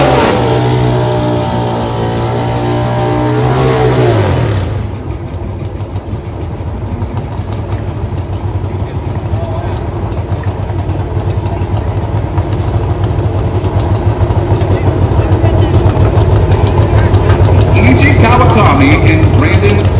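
Pro Stock Motorcycle engines at an NHRA drag race at Pacific Raceways, a steady loud mechanical drone with a rising revving tone early on, running continuously with commentary talk over it.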